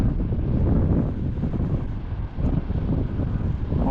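Strong wind roars steadily across the microphone of a small Flyfishrc Atlas 4 long-range quadcopter in flight, a loud continuous low rumble that dips briefly and then surges back, with no voices.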